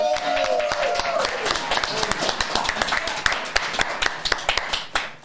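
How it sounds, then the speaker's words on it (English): A live studio audience at a show's premiere episode claps and applauds in a dense, steady patter that thins toward the end, with a voice briefly audible at the start. "Let's give a round of applause for our live audience."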